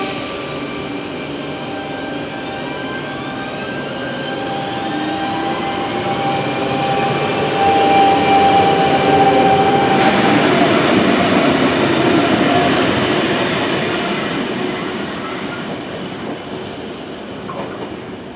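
A passenger train rumbles past nearby, swelling louder through the middle with steady rail noise and faint wheel squeal, then easing off slightly toward the end.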